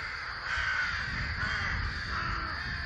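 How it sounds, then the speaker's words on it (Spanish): A nesting colony of rooks in scattered treetops calls continuously, with overlapping harsh caws that blend into a steady, dense chorus at close to moderate distance, with no talking. "Las ramas están llenas de nidos de córvidos."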